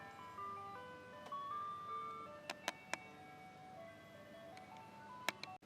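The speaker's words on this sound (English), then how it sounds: "Ice cream truck." A tinkling ice cream truck jingle plays a simple stepwise melody at moderate volume, punctuated by a few sharp clicks and taps near the start and end.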